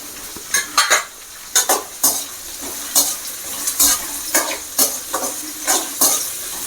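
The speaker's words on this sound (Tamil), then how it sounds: "நல்லா வெங்காயம் வதங்கிட்டுருக்கு" Onion and green chilli sauté for a mutton head gravy, with repeated loud scrapes and stirring strokes of a utensil in the pan over a soft sizzle.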